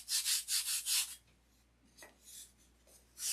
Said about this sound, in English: I could sand this open-handed, but it'd take longer. And the block keeps everything straight.